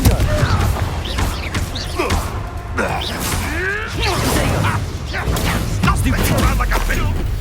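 Confringo blasting spell cast during combat in the Hogwarts Legacy video game, a dense run of whooshing bursts, crashes and booming impacts layered over constant game noise and music.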